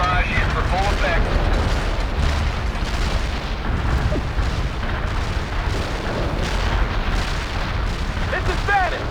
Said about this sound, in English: Heavy artillery barrage inbound. Artillery barrage in for full effect.